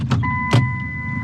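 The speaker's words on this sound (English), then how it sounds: "Now, truck's still running" A truck engine idles steadily with a low, even rumble, broken by two brief whooshing bursts; no one speaks.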